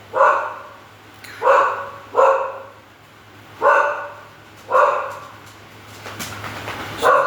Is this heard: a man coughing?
no